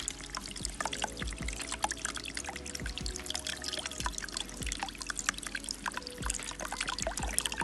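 Coconut water poured out in a tropical countryside setting, a soft continuous trickle with occasional drips and light knocks, fairly quiet and close with no talking.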